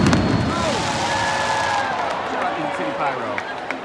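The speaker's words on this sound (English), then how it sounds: "City Pyro. Surprise fireworks." Surprise pyro fireworks go off at a soccer stadium before a Nashville SC versus Austin FC match, with a burst of bangs at the start, then a crackling, hissing haze under crowd noise and whistling streaks.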